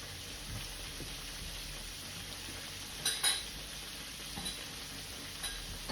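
Shrimp dipped in fish batter seasoned with Old Bay fry in hot oil with a steady, broad sizzle throughout, a few louder crackling bursts near the middle and soft clinks of utensils; no voices.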